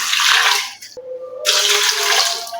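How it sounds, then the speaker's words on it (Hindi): Water from a glass pours into a cooking pot holding garlic and green chillies for mutton pulao stock, two bright splashing pours split by a short pause, close and fairly loud. "उसके बाद 2 गिलास इसमें पानी ऐड कर देंगे।"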